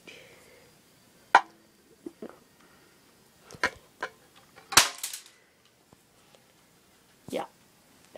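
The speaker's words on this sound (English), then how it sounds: "let me go ahead and shoot this BB out." A Daisy Powerline 201 BB gun fires a single sharp crack among several other faint clicks and handling knocks, close and dry against a quiet background.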